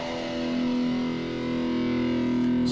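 Electric guitar played through a Harley Benton Tube 15 head with a Mullard FF82 valve in the V1 gain position and a distortion pedal switched on: one sustained, loud, buzzing distorted chord that rings steadily throughout.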